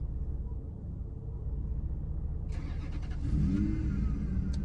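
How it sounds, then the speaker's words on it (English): A car drives past outdoors, a steady engine rumble that swells louder toward the end as it draws near, with no talking. "You hear that car?"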